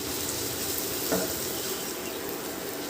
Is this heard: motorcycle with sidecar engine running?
no